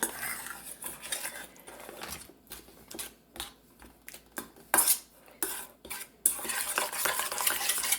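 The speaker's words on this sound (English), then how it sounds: "Stir it in really well." Homemade applesauce being stirred in a pot, an irregular, close series of metallic scrapes and clacks of a spoon against the pot, bursty and uneven with brief pauses between strokes.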